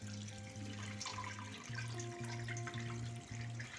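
Cold water runs over drained macaroni in a strainer, a faint, steady stream of splashing water beneath background music.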